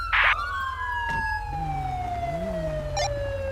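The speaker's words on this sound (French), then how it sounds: "Je vais couper ma sirène." A police siren in GTA 5 sweeps and wails steadily up close, with a short burst of electronic noise at the start and a faint hum underneath.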